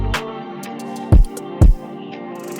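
R&B beat with sidechain compression ducking the music to the kick: two heavy low kick hits over sustained chords, with a brief transient at the start, close and without talk.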